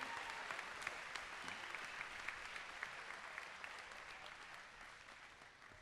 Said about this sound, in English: Can we get a round of applause for all these brave men and women who have set this up